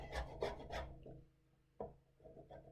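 Fresh Parmesan cheese rasped against a grater in a few quick rhythmic strokes, then a pause and a couple of softer scrapes, close and moderately loud with no talking.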